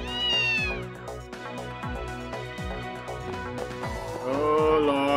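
A cat in a video game gives rising, drawn-out meows at the start and again at the end, heard over game music with rhythmic low thuds.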